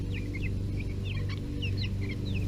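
Young chickens in a new coop make soft, repeated clucks and chirps, several birds calling at close range over a steady low hum.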